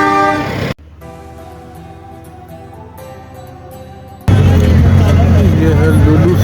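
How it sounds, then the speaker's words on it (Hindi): A vehicle horn on the mountain road to Babusar Top near Lulusar Lake in the Naran area sounds as a long, steady, tonal honk for several seconds. Louder bursts of wind and traffic noise come before and after it. "अब वो हॉर्न दे रहे हैं"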